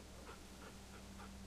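A dog in The Walking Dead video game pants in steady, quick rhythmic breaths, soft and close under a constant low game background hum.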